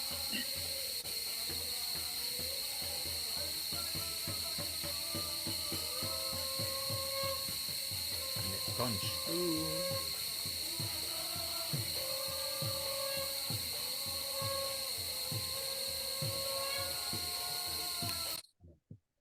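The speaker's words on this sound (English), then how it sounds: "you can probably hear all the cicadas and the tropical insects making so much noise as well" Cicadas and other tropical insects keep up a continuous shrill, high-pitched drone, layered over lower rhythmic clicking and chirping, running without a break until it cuts off abruptly at the end.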